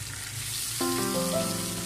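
Chicken and red chilies frying in a pan: a steady hiss of sizzling oil with a faint tonal ring joining partway through.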